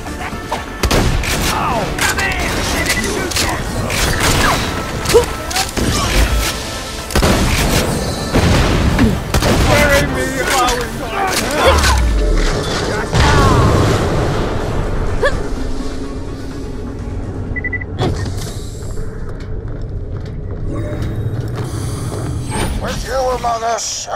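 Gunfire and explosions from the video game Borderlands: The Pre-Sequel, a dense, continuous barrage of booming blasts, thuds and rapid shots layered with voices talking throughout.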